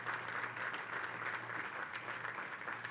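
Crowd applause at the groundbreaking ceremony for the new Belmont Park arena, a steady wash of many hands clapping at moderate distance, unbroken throughout.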